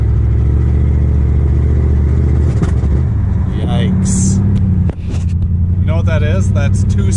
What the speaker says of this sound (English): Now the car has two-step, which is ignition retard for drag racing, or else it's got actual problems.